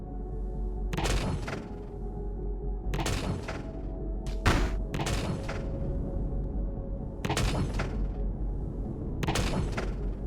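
Turrets and guns firing in Empyrion Galactic Survival (Reforged Eden): short, thudding volleys of shots go off in repeated bursts roughly every couple of seconds, fairly soft and distant.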